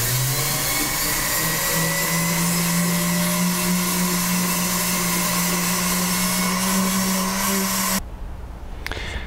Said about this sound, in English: So now I'm going to finish up with the green radials.